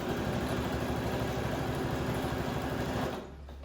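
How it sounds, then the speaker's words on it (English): Sewing machine running steadily and close up as it stitches a seam allowance onto a bag lining, a fast even whir-rattle that stops abruptly near the end, leaving a softer hum. "we're going to sew along this, slightly pulling the pieces apart so that we're stitching that seam allowance"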